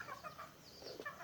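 Chickens in a simple backyard coop clucking softly, a few quiet, close-ish clucks over a faint outdoor background, with no talking.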